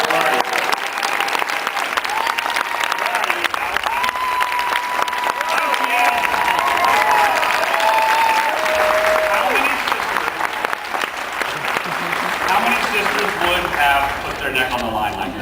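A Comic-Con convention audience gives a long, full round of applause with scattered cheers, dense and steady throughout, while voices and a little music carry on beneath it.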